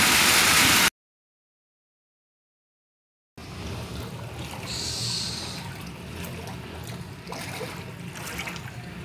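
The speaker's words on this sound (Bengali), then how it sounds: "ছাদ থেকে প্রচুর জল পড়ছে।" Heavy monsoon rainwater pours off a house roof in a steady, broadband rush that runs unbroken after a brief pause, with no voices.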